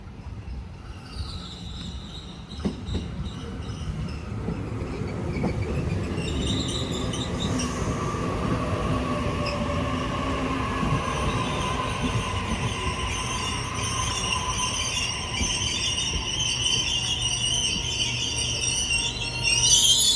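A train rolls through with loud, sustained wheel squeal and rumbling rail noise, a sharp clank early on, steady and close throughout.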